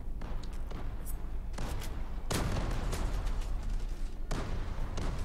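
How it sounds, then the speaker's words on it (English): Anti-push grenades explode during a competitive esports shooter match: several heavy, loud blasts with crackling bursts around them over a constant background of game noise. "there goes the anti-push nades"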